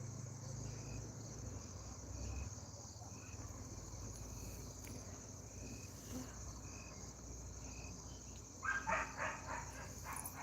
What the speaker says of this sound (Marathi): बाहेर जरा कुत्री वगैरे आहेत बांधलेली त्यामुळे आवाज वगैरे येतोय